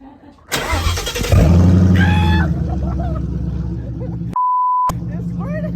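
A 2016 Mustang 5.0 with a freshly installed Corsa exhaust cranks and fires up loudly, then settles into a deep rumbling idle with blips of revs, while people shout excitedly nearby and a beep is heard.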